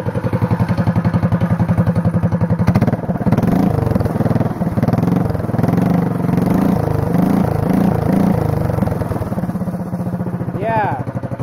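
A go-kart engine fitted with a performance muffler runs loud and close, a rough rapid putter and clatter that holds steady with slight revving, with a brief squeal near the end.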